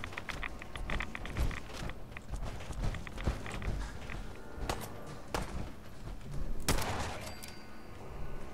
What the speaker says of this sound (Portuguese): Alguém atirando em mim, velho